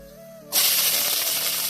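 Mustard seeds hit hot coconut oil and a loud, broad sizzle erupts suddenly, then holds steady and close after a quiet start.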